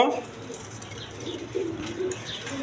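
A pair of pigeons, one male and one female, at a pigeon farm give soft, low cooing phrases, close by and moderately quiet, over a faint background hum.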